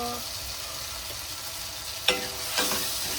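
Tomato, onion and spice masala with cumin powder sizzles softly in a pan, and a couple of sharp scrapes from stirring ring out near the end over the steady hiss.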